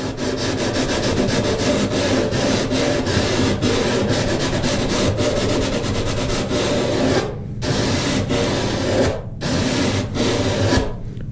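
Edge of a foam wingfoil board being sanded with 120 grit sandpaper, a loud, close, continuous rhythmic rasping in fast strokes, breaking off briefly twice.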